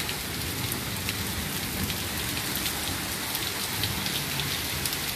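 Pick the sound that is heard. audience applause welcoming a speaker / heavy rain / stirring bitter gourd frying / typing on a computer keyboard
heavy rain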